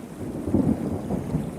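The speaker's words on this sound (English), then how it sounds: "I don't know if you hear that thunder in the background" Distant thunder rumbles low and muffled over a river gorge on the Upper Red River where a creek joins, a soft swelling roll that rises and fades across the short stretch with no voices.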